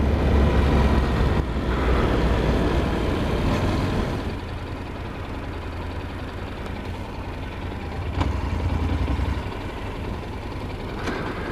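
A Honda NC700X motorcycle engine rumbles loud and close while riding, then eases off after a few seconds into a lower, steadier note as it slows into a Lowe's parking lot.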